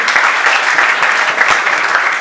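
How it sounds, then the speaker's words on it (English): An audience bursts into steady, dense applause at a suicide prevention event, many hands clapping together loudly and continuously with no voices over it. "I think we can clap for it."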